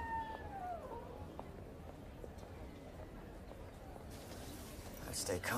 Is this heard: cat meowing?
yes